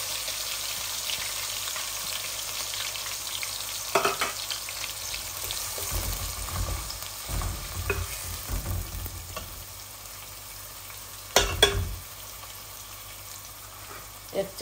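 Onions fry in a pan, with a low steady sizzle and several louder bursts of stirring or scraping.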